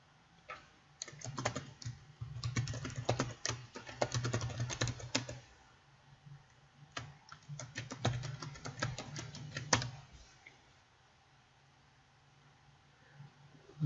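Close clatter of fingers on a computer keyboard while logging in, in two dense bursts of quick keystrokes separated by a short pause, then quiet.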